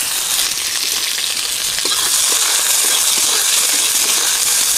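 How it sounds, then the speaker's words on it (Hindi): Onions sizzle loudly in hot oil for a village-style potato and arbi sabzi, a steady close hiss and crackle that holds throughout without talking. "तेल थोड़ी देर के लिए गर्म होने देते हैं, उसके बाद हम लोग प्याज डालेंगे इसमें।"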